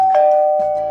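A doorbell rings once with a clear, steady electronic tone that sustains for under a second, close and loud with no one speaking over it.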